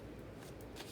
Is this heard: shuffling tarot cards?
yes